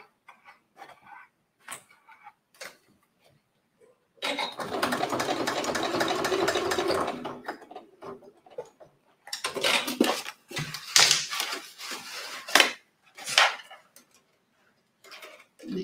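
A domestic sewing machine stitches Italian leather in one loud, steady mechanical run of about three seconds. Sharper bursts and clicks of handling follow close by, with quiet rustles before it and no talk.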